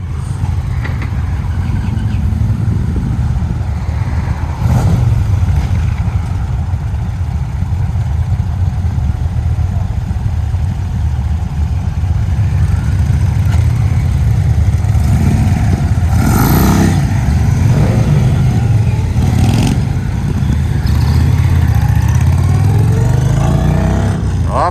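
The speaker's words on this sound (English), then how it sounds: "Quite the rig here, bringing the motorcycles, and they're going out for another ride here." Motorcycles, including a CF Moto 800, rumble and idle outdoors at an Indian Motorcycle demo day, with a continuous loud engine drone and some revving as riders head off.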